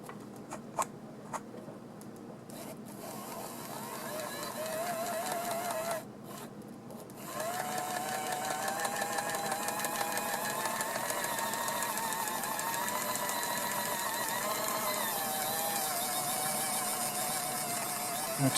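A Mantua tank engine model locomotive motor running forward on a test: a faint, steady whirring hum with light ticking and clicking, briefly pausing before resuming at a steady level for many seconds.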